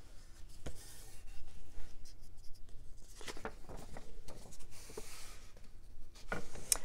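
Paper pages being folded for a papillon book, with soft rustling, creasing and rubbing sounds close by, coming in irregular bursts of varied loudness and no talking.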